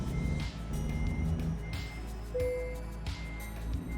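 A truck reversing in a truck-driving video game, its backup alarm beeping steadily in a regular rhythm over a low, constant engine rumble.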